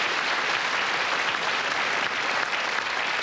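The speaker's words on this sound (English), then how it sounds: "That deserves a round of applause" Studio audience applause on a UK Sale of the Century game show, a dense steady wash of clapping held at a constant level for the whole stretch with no voices over it.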